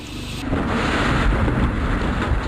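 Plastic explosive detonating inside a glare luggage container in an FAA test: a sudden loud blast followed by a sustained, rumbling roar that carries on to the end.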